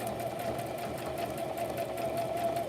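A sewing machine stitches a strap onto a soft cover made from an Amazon mailer, running as a continuous, even motor hum throughout with no pauses.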